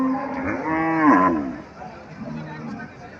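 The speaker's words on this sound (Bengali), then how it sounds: "এখানে একটা গাভি দেখা যাইতেছে, ধূসর কালারের গাভি।" A grey dairy cow at a cattle market in Comilla, with a Nepali bull calf nearby, gives one close, drawn-out moo that rises and falls, followed by a quieter low lowing.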